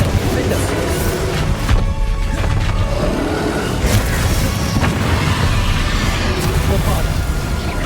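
Confringo fire spell blasts in Hogwarts Legacy on PS5, a string of booming explosive hits over continuous loud combat noise and music, with a voice speaking alongside.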